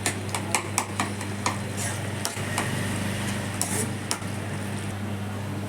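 Raw mango pachadi simmering with jaggery in a pan while a spoon stirs it, giving soft scraping strokes and light clinks over a steady low hum and faint bubbling.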